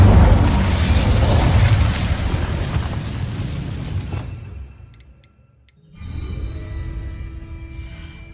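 An Incendio fire spell in Hogwarts Legacy on PS4 Pro bursts with a loud, roaring blast that slowly fades into near silence, followed by softer game rumble.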